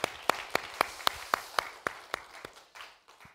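At a Sunday church service, the congregation starts with a few sharp, separate claps that fall into a regular rhythm, then thin out and fade as the applause tails off, fairly faint and heard alone.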